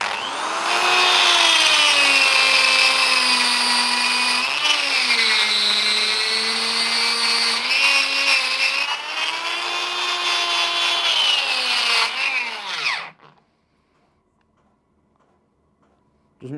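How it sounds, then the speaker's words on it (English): A carbide burr grinds stainless steel with a loud, high-pitched rotary whine and scraping drone, its pitch dipping slightly under load, then spins down and stops around thirteen seconds, leaving near silence. "Right, so it's removing stainless steel quite effectively."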